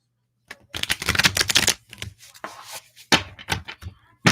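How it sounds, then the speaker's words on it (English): A deck of playing cards being shuffled by hand, several quick riffling bursts with short pauses between them, close and fairly loud, with no talk over them. "shuffle this deck"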